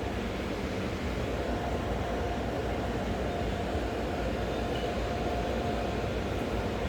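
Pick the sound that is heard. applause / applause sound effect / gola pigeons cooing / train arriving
train arriving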